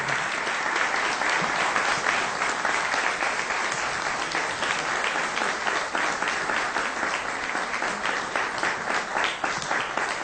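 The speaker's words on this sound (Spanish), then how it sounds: "Un fuerte aplauso para nuestro presidente, por favor, por tan alto reconocimiento." Sustained audience applause at an award ceremony honoring a president with the Grand Cross of the Ibero-American Order of Justice, a dense, steady patter of many hands clapping throughout, fairly loud and close.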